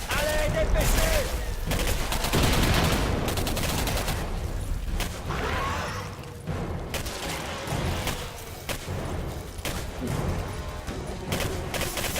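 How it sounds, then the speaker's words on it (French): Dense, sustained gunfire from the shooter video game Singularity, rapid bursts and crashing impacts filling the whole stretch, with a voice talking underneath. "j'essaie de viser la tête pour gaspiller le moins de munitions possible et puis j'en gaspille plus"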